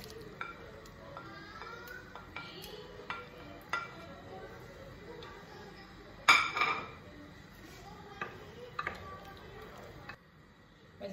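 Vegetables tumble into a pot of lentil soup, with scattered clinks and scrapes of utensils against cookware and one louder clatter midway, while a person talks throughout.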